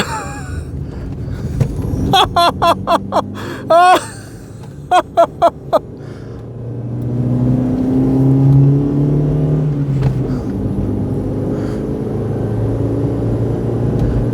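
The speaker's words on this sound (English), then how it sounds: "Throwing a Proton up the Shelsley Walsh hill climb." A Proton car racing up the Shelsley Walsh hill climb, its engine revving hard in a quick series of rising bursts, then settling into a steady, loud mechanical rumble as it climbs.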